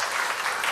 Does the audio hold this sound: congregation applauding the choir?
yes